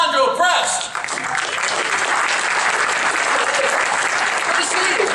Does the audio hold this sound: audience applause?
yes